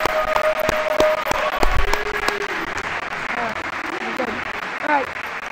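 Audience applause for a school swimming team at a winter sports awards ceremony, a sustained wash of clapping from a hall crowd with voices and chatter mixed in underneath.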